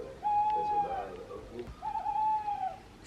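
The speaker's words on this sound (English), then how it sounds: "Sounds like the owl is right outside." A tawny owl calling from a tree just outside the house, two drawn-out hooting notes a moment apart, fairly close and clear against quiet surroundings.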